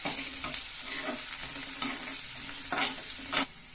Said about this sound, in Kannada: ಈರುಳ್ಳಿ ಕೂಡ ಚೆನ್ನಾಗಿ ಫ್ರೈ ಮಾಡ್ಕೊಂಬಿಡಿ ಈರುಳ್ಳಿ ಜೊತೆನೆ ಹಸಿ ಮೆಣಸಿನ್ಕಾಯಿ ಕೂಡ ಹಾಕೋತೀನಿ ಚೆನ್ನಾಗಿ ಫ್ರೈ ಮಾಡ್ತೀವಿ